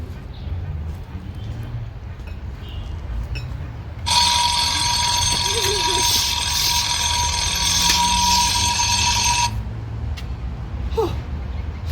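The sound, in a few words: alarm ringing in a video game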